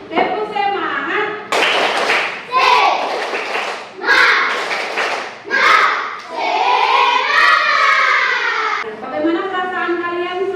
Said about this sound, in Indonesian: Sekarang kita tepuk semangat dulu.